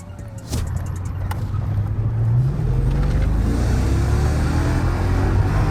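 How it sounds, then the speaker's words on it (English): A car engine with a straight intake revs up at a Florida car meet, a deep rumble swelling into a louder sustained roar close by. "Let me hear a rev. I hear straight intake."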